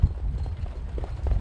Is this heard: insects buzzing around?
no